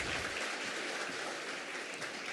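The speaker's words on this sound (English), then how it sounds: "Can we have one more round of applause for our students?" Steady audience applause for students at an annual celebration evening program, dense and continuous clapping from a crowd throughout, fairly close and loud with no talking over it.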